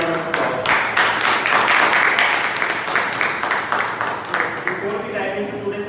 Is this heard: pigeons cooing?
no